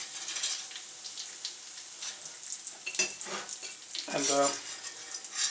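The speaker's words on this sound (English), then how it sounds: "the pork belly is frying in practically its own fat" Pork belly frying in its own rendered fat, with a steady crackling sizzle and bursts of spattering, and a short voice heard briefly over it.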